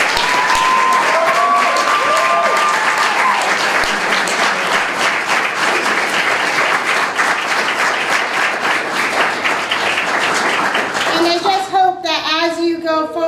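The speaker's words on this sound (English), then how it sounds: "So big round of applause to all of you." Loud, sustained applause from a graduation-ceremony audience at a stole ceremony fills the room for over ten seconds, with a few whoops early on; it thins out near the end as a person starts speaking.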